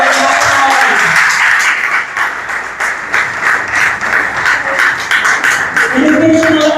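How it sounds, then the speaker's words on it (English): Sustained round of clapping from an assembled audience at a primary and infant school new-building ceremony, honouring a guest, dense and steady throughout with a few voices rising near the end. "Let us give her a round of applause."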